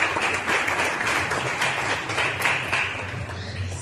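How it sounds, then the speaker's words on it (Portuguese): Congregation applause at an evangelical youth group church service, a steady dense wash of clapping from a crowd that holds evenly for a few seconds, with a faint murmur of voices underneath. "E as palmas vão a Deus"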